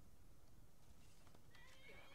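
A horse in Skyrim gives a short, shrill whinny near the end, with soft hoof clip-clops before it, faint under a quiet background.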